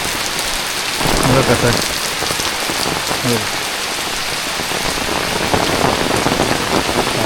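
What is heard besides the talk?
heavy rain falling in a Konkan village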